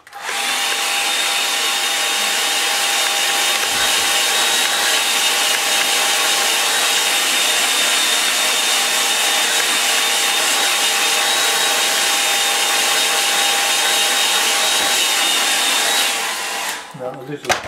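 A hair dryer drying paint runs steadily and loudly for about sixteen seconds with a constant whining roar, then cuts off abruptly near the end.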